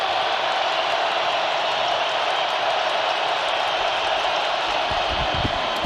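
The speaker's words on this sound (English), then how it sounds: "Crowd on their feet here in Detroit." Crowd at an American football game in Detroit, Giants against Lions, on their feet in the fourth quarter, making a steady, loud roar of cheering that fills the stadium without a break.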